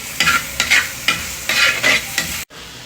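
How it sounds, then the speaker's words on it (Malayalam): Beef curry with small onions is stirred in a clay pot, a quick series of scraping, rustling strokes with a soft sizzle that ends abruptly. "അപ്പം എന്തെങ്കിലും അടുപ്പി വെച്ചാൽ ഇതൊരു ചടങ്ങാണ്, ഇങ്ങനെ ഇളക്കിക്കൊണ്ടേ നിൽക്കണം."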